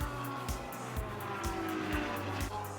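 Race cars, among them a Porsche and an Audi, charge uphill through the S's at Kyalami during the 9 Hour race, with loud engines revving and shifting in rapid bursts and several passing close, with no talking.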